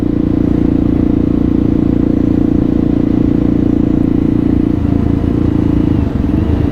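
A Kawasaki KLR650 motorcycle runs in fourth gear, its single-cylinder engine droning loud and steady up close with some clatter and a slight change in tone near the end.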